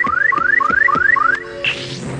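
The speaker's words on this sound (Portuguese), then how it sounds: "É o alarme de emergência." Emergency alarm in the 1994 Mega Man anime: five rising electronic whoops repeat in a steady loud rhythm, then a brief higher tone and a soft whoosh follow, with no talk.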